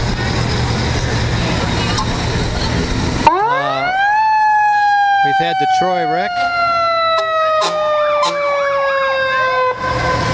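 A Troy Fire Department fire truck, Engine 17, wails its siren loudly nearby at the 2020 Miami Valley Veterans Parade, rising then holding a steady drawn-out tone, with a brief horn blast and crowd noise underneath.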